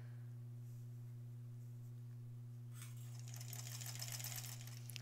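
A sewing machine stitches an embroidered Halloween tote bag, starting with a faint steady hum and then breaking into a louder rapid mechanical rattle for the last couple of seconds.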